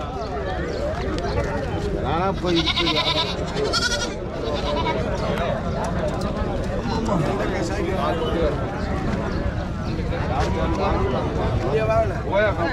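Goats and sheep bleat repeatedly amid the busy Mattrapalli cattle market, with constant crowd chatter and nearby voices throughout.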